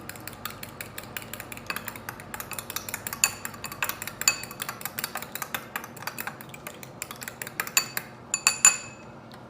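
An egg is beaten in a bowl, rapid irregular clicks and clinks of utensil against the bowl tapping on steadily, close and fairly soft.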